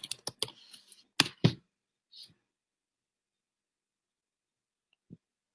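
Keys on a computer keyboard are struck in a quick, close burst of crisp clicks while a search is typed into Facebook, followed by a long silence broken by one faint click near the end.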